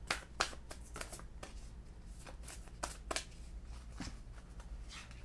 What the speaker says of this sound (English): let's get a card from the Starseed Oracle.